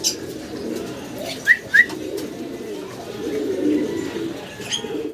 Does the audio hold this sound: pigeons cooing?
yes